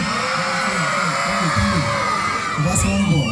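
A school annual-day crowd at CHMKMUPS, Mundakkulam hoots, whoops and cheers loudly throughout, with children's high shouts layered into a dense, continuous wall of voices.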